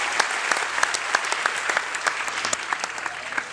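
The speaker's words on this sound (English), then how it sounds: "Everybody clap and give yourselves a big round of applause." An audience at an evening charity ride event claps in sustained applause, a dense stream of close hand claps with sharp individual slaps standing out, and no talking.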